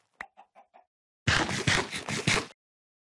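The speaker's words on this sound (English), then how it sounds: "Spawn chickens." Chickens in the video game Minecraft give a few short, soft clucks, followed by a louder burst of scratchy, fluttering clucking noise that stops abruptly.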